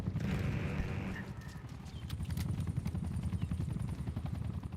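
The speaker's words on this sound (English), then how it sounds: "got a watchdog helo coming up" A Watchdog helicopter in Black Ops 6 gives a steady rhythmic rotor thump throughout, loud and continuous, with scattered gunfire and game effects over it and a voice talking briefly.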